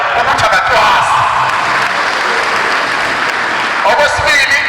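Applause from an audience at a family gathering connected to a funeral, loud and sustained clapping with scattered cheers and whoops, swelling again toward the end.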